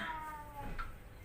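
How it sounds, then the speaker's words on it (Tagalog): A cat meows close by, a single tonal, wavering cry that rises and falls over a steady low background, with a second shorter call partway through. "Ang ingay talaga ng pusa"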